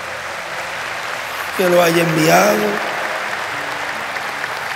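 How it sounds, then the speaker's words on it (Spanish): Congregation applause at a Bible study service, a steady wash of clapping that runs through the whole stretch while someone speaks over it partway through. "le damos un fuerte aplauso a nuestro Padre Celestial"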